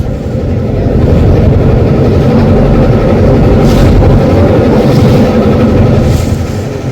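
A small steel-bodied, trawler-type river boat on the Tentulia River between Bhola and Patuakhali drones with a loud, steady, low engine rumble that fills the whole stretch without letting up.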